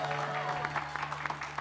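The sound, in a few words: studio audience applause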